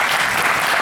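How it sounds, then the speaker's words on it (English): A dense burst of audience applause at a Jain spiritual session, loud and continuous throughout with no one speaking. "Round of applause"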